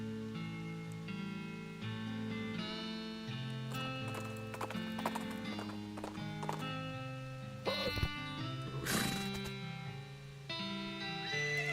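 Steady clip-clop of horse hooves in the video game West of Loathing over layered game music, with a brief whinny partway through.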